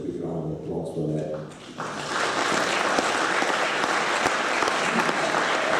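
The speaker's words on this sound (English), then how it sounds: "I think they deserve a big round of applause for that." After a voice talks briefly, an audience at a book launch breaks into sustained, dense applause that holds steady and fairly loud to the end.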